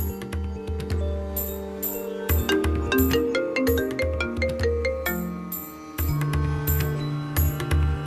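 A phone rings out loudly in a Hindi TV drama scene, a repeating bright melodic ringtone pattern cycling several times with no talking over it.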